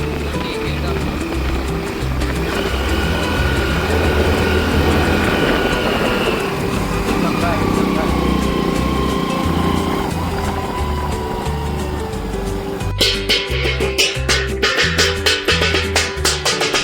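A vehicle engine labors hard, unable to climb a slope, its loud steady drone filling the scene before a rattling, clattering stretch near the end, with people talking over it.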